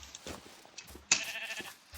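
A sheep in the Minecraft video game gives a short bleat partway through, rising sharply over a steady layer of game background sound.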